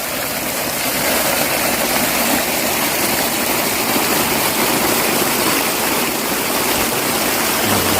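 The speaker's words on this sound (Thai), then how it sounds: "นี่ก็จะเป็นน้ำไหลนะครับ" Water gushes steadily and loudly from the 3-inch outlet pipe of a 5-horsepower solar-powered pump, a constant dense rushing roar with no pauses and no voices.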